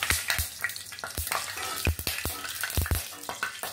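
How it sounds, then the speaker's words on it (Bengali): Mustard oil sizzles in a hot frying pan, a dense, loud crackle with a rapid scatter of sharp pops and spits running throughout, no voices. "এখন দিয়ে দিব আমি সরিষার তেল পরিমাণ মতো, দিয়ে এটাকে একটু ছড়িয়ে দিব।"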